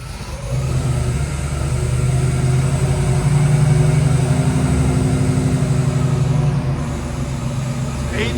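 A 1983 Jeep Scrambler with an LS-swapped 5.3L V8 idles through its exhaust after a cold start, a loud steady low rumble with a slight surge in the middle, heard close up without interruption.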